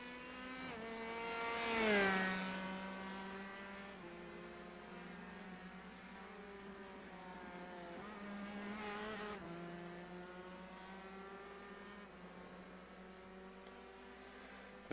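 A race car in iRacing runs at full throttle, its engine note rising and then dropping through several gear shifts. The steady, tonal whine stays at a moderate level with no talk.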